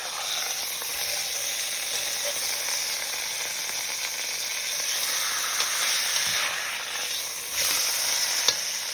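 A pot roast sears in a hot pan, giving a steady, close, continuous sizzle and hiss with a few faint knocks of the meat being shifted against the pan's side.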